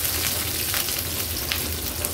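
Potatoes added to hot oil with chillies sizzle and crackle steadily, a dense, close frying hiss with no talk over it.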